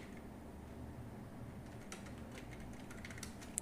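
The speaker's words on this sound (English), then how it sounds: "Then I'm going to type like Android" Computer keyboard keys tapped in a short, quiet burst of clicks over a faint background hum, starting about halfway through after near-silence.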